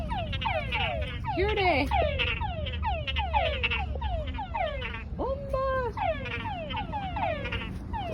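Many frogs croak continuously in a dense chorus of repeated, rising calls, close and loud, with a brief spoken word.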